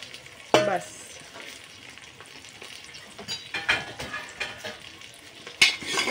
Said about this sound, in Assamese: ধুনীয়াকৈ প্ৰথমতে ঘিত ভাজি ল'ম মই।